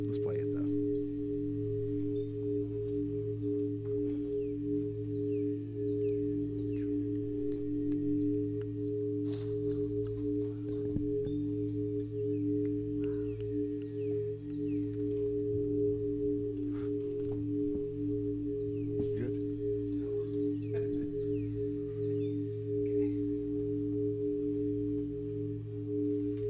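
Scalar wave homeopathy music played back: steady low droning sine-like tones hum continuously beneath scattered faint chirps and brief clicks, evenly loud throughout.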